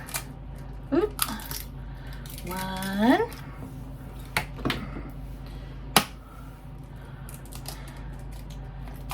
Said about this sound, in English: We're going to put 3 eggs in here.